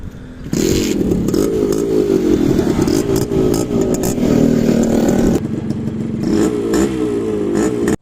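Suzuki motorcycle engine revved on a road test ride, a loud buzzing run that rises and holds steady, then eases briefly before picking up again.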